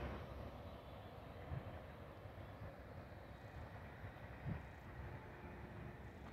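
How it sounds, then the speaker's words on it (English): A long Union Pacific eastbound freight train rolls past in the Nevada high desert, a steady low rumble and rattle of railcars that holds for the whole stretch with a few louder clanks, fairly distant and with no talk. "I told you that was a long train."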